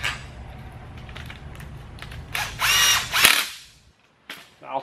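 A ratchet tightening Allen socket-head bolts with 8mm washers during alternator, starter and transmission work gives a few clicking, creaking strokes, building in the middle and then stopping, close and alone.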